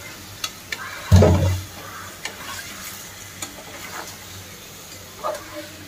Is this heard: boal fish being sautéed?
yes